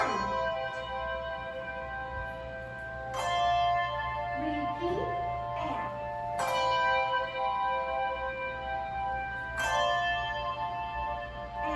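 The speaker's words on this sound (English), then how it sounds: "We can also do what's called a bell toll." Handbells rung in a toll, three struck bell tones each ringing out and sustaining as they decay, with a voice briefly speaking between strikes.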